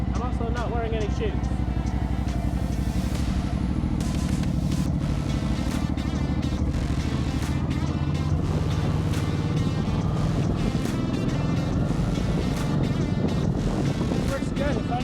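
A motorcycle rides along with a 360 camera mounted near the windshield, its engine a steady low drone under constant wind rush, while someone talks throughout.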